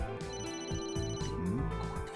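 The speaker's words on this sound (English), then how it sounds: "Someone's calling me. Answer the phone." A phone rings inside the video game Emio The Smiling Man, a steady electronic ringtone that fills the whole moment over a layer of game music.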